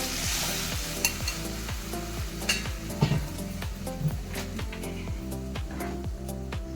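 Steady loud sizzle of a hot tempering in a pan for upma, with a repeating rhythmic scraping pattern running throughout and a few brief clinks, no voices.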